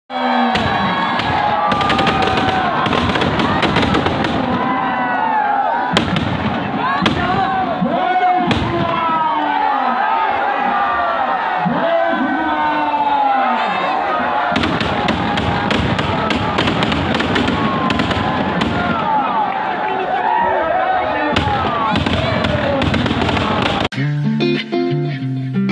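Firecrackers crackle and bang without pause at a Dussehra Ravana effigy burning, loud and close, over a cheering crowd and shouting children, with voices talking throughout.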